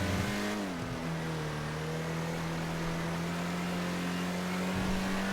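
Car accelerating and revving in GTA roleplay, a loud steady engine drone with one early pitch shift, then a sustained high rev held to the end, no talking.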